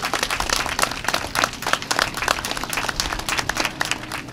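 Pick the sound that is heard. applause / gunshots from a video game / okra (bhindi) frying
applause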